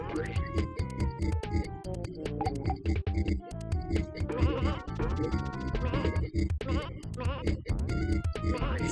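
Sheep bleat repeatedly in the video game Bubsy 2, cartoonish bleats layered over busy, constant game music and sound effects.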